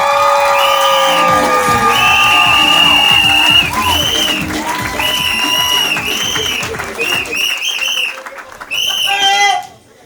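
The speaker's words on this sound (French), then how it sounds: "On peut acclamer, s'il vous plaît" Crowd at a traditional wedding cheering and clapping in a busy, continuous swell of noise with shrill whoops and ululating cries, voices mixed in, dropping away near the end.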